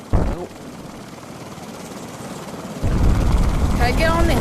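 A helicopter in the Richie's Plank Experience VR game whirs with steady rotor chop, swelling louder partway through, while a person exclaims and talks over it.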